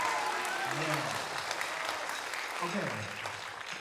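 An audience gives a steady wash of clapping for a pianist at a masterclass on band leading and composing, with a voice briefly speaking over the applause.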